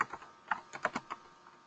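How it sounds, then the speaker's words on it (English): Typing on a computer keyboard, a close, quiet series of about eight uneven key clicks in quick bursts with short gaps between them. "you can go crazy typing"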